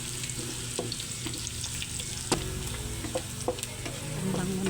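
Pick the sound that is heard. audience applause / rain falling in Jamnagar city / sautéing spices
sautéing spices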